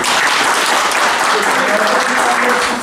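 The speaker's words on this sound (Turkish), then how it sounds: "Onu ayrıyetten bir alkış alıyoruz." Loud, dense applause for an undefeated tournament champion at a final, sustained without pause through the whole moment, with faint voices mixed in.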